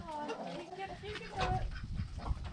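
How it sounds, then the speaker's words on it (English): Chickens cluck and murmur softly nearby while eating, with low scuffling and pecking sounds, while a person speaks over them. "All the chickens having their din-dins."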